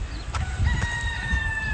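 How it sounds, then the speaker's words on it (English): A rooster crows in Hawaii, a near and loud single cock-a-doodle-doo with a few clucks and outdoor noise underneath. "There are so many chickens in Hawaii."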